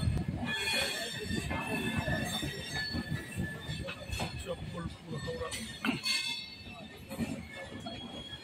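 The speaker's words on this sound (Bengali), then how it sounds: "আমাদের ট্রেন এখন ধীরে ধীরে এগিয়ে চলেছে" Train rolling slowly into Howrah station from the Santragachi side: low rumbling wheels with intermittent squeals and clanks, steady and close, with faint voices in the background.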